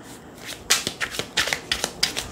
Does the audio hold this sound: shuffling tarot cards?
yes